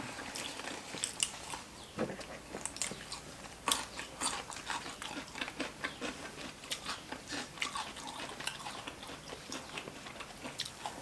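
Crispy batter-fried shrimp being chewed close to the mic, a steady run of crunchy bites and chewing with no talking.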